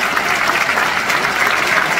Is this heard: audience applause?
yes